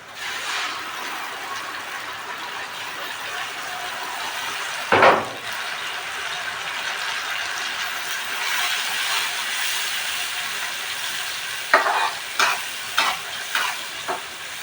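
Pangas fish fries in a pan with a steady, close sizzle. A few utensil scrapes and knocks break in briefly partway through and again near the end, with no talking.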